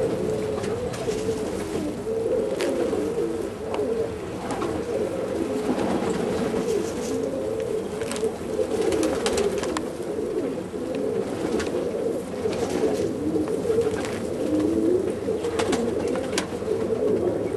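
Steady low cooing of many bred pigeons (Doneks, Macedonian Tonys, Akuruks) in Sydney, Australia, overlapping and continuous, close by, with occasional wing flutters and no talking.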